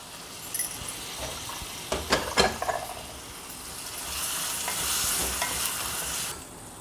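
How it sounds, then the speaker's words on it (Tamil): Garlic and tomatoes frying in a pan, a soft sizzle with clinking spoon-stirring strokes around the middle, then a brighter, louder hiss of frying near the end. "அடுத்தது பூண்டு பற்களை சேர்த்துக்கிறேன். அடுத்தது தக்காளி சேர்த்துக்கலாம்."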